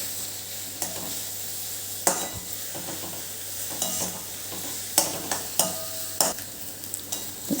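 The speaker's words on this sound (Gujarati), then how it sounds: "હવે આ ડુંગળી આપણી જલ્દી સંતળાઈ જાય એના માટે આપણે ચપટી મીઠું એડ કરીશું" Onions sauté with a pinch of salt in a pan over a low gas flame, a soft continuous sizzle punctuated by close spatula scrapes and taps at an irregular pace, with no talking.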